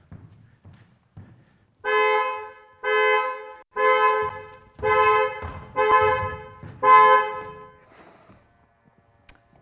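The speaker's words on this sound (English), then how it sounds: "that will be the CPD, Child Presence Detection System" Six loud, evenly spaced horn blasts from a BYD Seal's child presence detection alert, each about half a second long, sound after the car is locked, with faint footsteps before and after.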